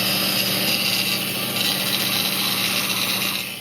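A grinder dresses up a fresh weld during a Saab 9-5 brake master cylinder replacement, giving a steady, loud, continuous rasping whine that holds throughout and tapers slightly at the end.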